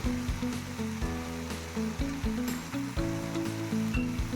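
Mint leaves sautéing in a pan for pudina chutney, a steady soft sizzle with light scraping from stirring over a low tonal background, no voices.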